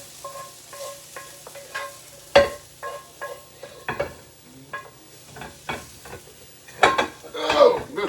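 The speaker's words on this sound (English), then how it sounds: "I'm going to scrape all this stuff off of this skillet" Food being scraped off a skillet onto a plate, a series of spaced metallic scrapes and clinks with a faint sizzle underneath, including a few sharper strikes.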